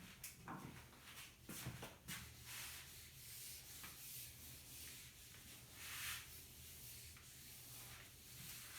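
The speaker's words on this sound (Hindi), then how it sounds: "इसको मैं रब कर देता हूं।" Eraser or duster rubbing out working on a board in a physics lecture on impulse and Newton's third law; soft scrubbing strokes over a steady low room hum, with no talk.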